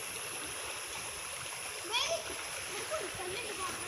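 Children splash while bathing in a river, soft intermittent splashes over a steady flowing-water rush, with faint distant voices of kids.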